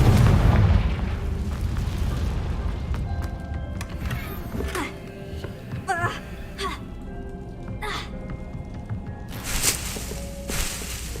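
In Hogwarts Legacy on PS5, a Confringo spell goes off as a loud booming explosion at the start, fading into a rumbling tail with scattered game effects and chirps.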